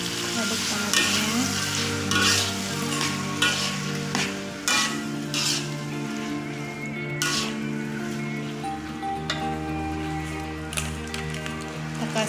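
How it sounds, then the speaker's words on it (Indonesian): Tomatoes fry and are stirred in a pan, giving a continuous close sizzle with intermittent scraping strokes; a low steady hum runs underneath. "Sekarang ini aduk tomatnya."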